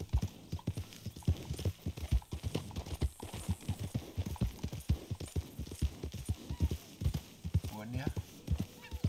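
Horse hooves clip-clop steadily in Red Dead Redemption 2, a quick rhythmic trot of close hoofbeats running throughout, with voices talking over it and a brief whinny near the end.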